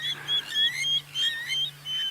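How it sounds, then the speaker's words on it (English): An Egyptian goose calls at a waterhole at sunset in the African bush, a series of harsh, nasal honking notes in quick repeated bursts, fairly close and clear over a quiet background with a low steady hum. "We've got a noisy Egyptian goose."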